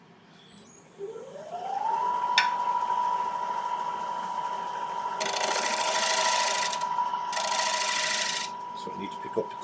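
A lathe turns a dome in applewood, giving a steady motor hum with a high whine, while the tool scrapes and rubs against the spinning wood in two louder bursts of cutting.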